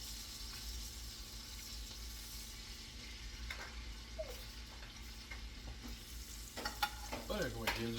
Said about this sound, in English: Now we just need to get that butter based.